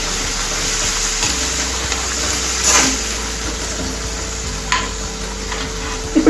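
Curry leaves and turmeric stirred in a hot pan, a continuous sizzle with scraping stir strokes and a couple of sharper clinks near the end.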